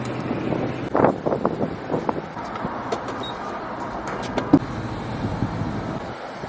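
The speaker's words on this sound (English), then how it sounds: "It's so windy." Gusty wind buffeting the microphone with low rumbling bursts, alongside a faint engine hum in the background.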